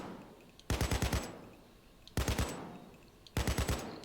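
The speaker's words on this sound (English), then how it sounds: "Still, no problem firing full auto body shots" An AK rifle fires full auto in the video game Payday 2, in three short loud bursts of four or five rapid shots each, separated by brief pauses with a fading echo after each burst.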